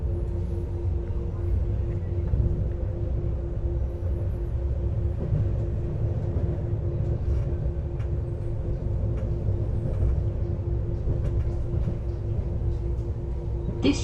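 Inside a DLR B23 stock train running toward Woolwich Arsenal, a steady low rumble and hum hold at an even level throughout, with no clear voices.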